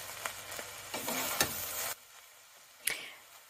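Cilantro is mixed into cooked beef samosa filling in a pan, giving scraping, stirring strokes over a faint sizzle, close and moderately quiet, with a brief sharp scrape near the end.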